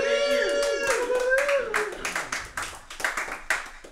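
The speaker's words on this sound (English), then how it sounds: "Please keep applauding." An audience at an online open-mic comedy show breaks into steady, close clapping that swells into irregular bursts, with a brief vocal whoop at the start.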